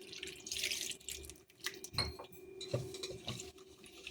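Water is poured and stirred into gobi manchurian batter in a kitchen, giving short splashy pours and wet mixing sounds with a few light clinks of a utensil against the bowl.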